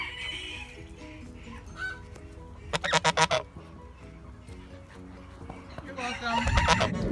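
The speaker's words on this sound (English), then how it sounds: "For any of you guys curious, these are my only parrots left." Princess of Wales parakeets give squawky honking calls in short bursts, close by, over a low background hum.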